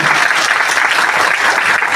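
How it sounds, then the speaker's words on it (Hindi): A crowd at a DXN business meeting bursts into loud, dense clapping for Professor Sir Ratnavan, a close, continuous roar of hands lasting a couple of seconds. "हमारे विश्व गुरु प्रोफेसर सर रत्नावन के लिए जोरदार ताली होना चाहिए"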